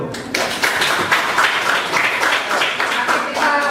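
Classroom audience applauds group 3 after their presentation, a steady burst of many hands clapping close by that fills the whole moment without talk.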